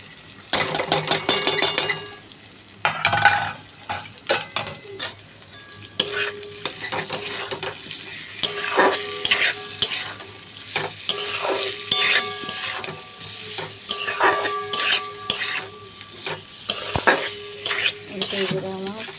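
Simple vegetarian khichuri is stirred and fried in a pan, a spoon scraping and clinking against the metal over a continuous sizzle, the stirring strokes coming in irregular bursts at close range with no voice.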